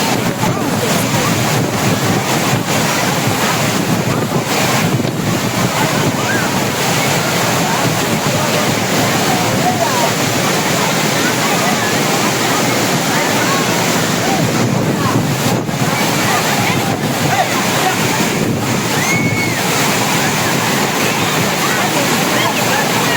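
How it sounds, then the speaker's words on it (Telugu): Penna Badvel waterfall, with water tumbling down steps, gives a constant loud, close rushing roar for the whole stretch, with wind buffeting the microphone. "అక్కడి నుంచి వచ్చే దారిలో ఉండి ఇది పెన్నా బద్వేల్ అని చెప్పేసి వాటర్ ఫాల్ ఉంది."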